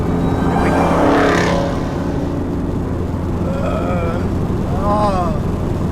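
A boosted car accelerating, its engine and wind noise loud and steady with rising whine sweeps as it pulls, while people talk over it inside the car.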